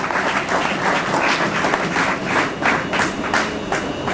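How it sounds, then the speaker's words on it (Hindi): Students at a motivational lecture clap hard for themselves, a loud, sustained crowd applause with sharp individual claps standing out and occasional thumps underneath. "इन शब्दों के साथ जोरदार ताली अपने लिए बजा लो"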